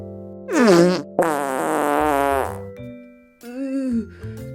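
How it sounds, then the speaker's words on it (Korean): A cartoon skunk lets out a foul fart in a children's animal story, rendered as a loud buzzy two-part fart sound effect followed by a shorter sputtering toot. "갑자기 스컹크가 고약한 방귀를 꼈어요"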